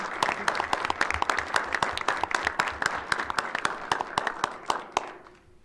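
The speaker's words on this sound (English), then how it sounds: "It's another round of applause, please." A round of applause at a city council meeting, many hands clapping in a hall at moderate loudness with distinct individual claps, then tapering off and fading out near the end.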